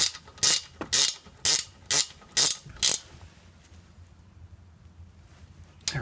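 Ratchet wrench clicking in six quick, evenly spaced bursts while tightening a brake caliper bolt on a 1996 Honda CR-V, loud and close, then stopping, leaving a quiet room hum.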